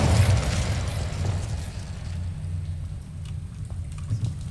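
An Incendio fire spell cast in Hogwarts Legacy erupts with a deep whooshing burst, then a lingering rumbling crackle that slowly fades with scattered pops.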